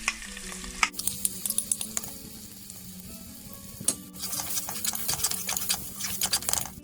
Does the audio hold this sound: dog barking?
no